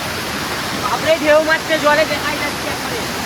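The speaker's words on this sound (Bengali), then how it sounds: "ও বাপরে জল জলে ফ্লো দেখুন একবার" A hidden forest waterfall in strong flow after an hour of heavy rain gives a loud, continuous roaring rush, with a person's voice rising briefly over the torrent.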